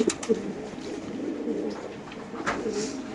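Racer pigeons cooing in a loft at a pigeon farm, a soft, low, continuous murmur of several birds close by, with a few brighter flutters and no talking.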